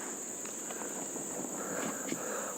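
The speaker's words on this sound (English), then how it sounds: "We're getting a few mosquitoes now." Mosquitoes buzz along a well-maintained nature park path, a thin continuous high whine that stays steady against faint footsteps and quiet outdoor background.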